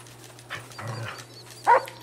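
A dog in the game GTA V lets out a few short barks and whimpers, with a louder sharp yelp near the end, over a steady low hum.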